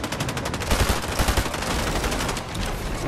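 Rapid bursts of automatic gunfire in a Fortnite match, dense overlapping shots rattling continuously for about three seconds, loud and close with no talking.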